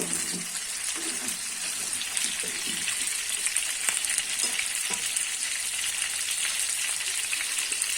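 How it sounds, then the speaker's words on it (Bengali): New potatoes fry with turmeric in oil in a wok for Kashmiri aloo dum, giving a continuous close sizzle with occasional soft knocks of stirring throughout. "হলুদ দিয়ে আলুটাকে কিছুক্ষণ ভাজবো"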